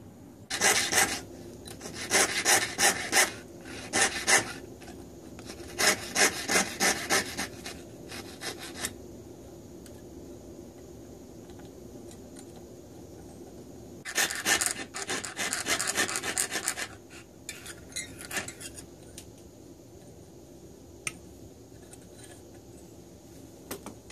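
A hand file rasps on a rough-cut brass contrate wheel for a French clock fusee. Close, scratchy strokes come in quick rhythmic bursts separated by short pauses.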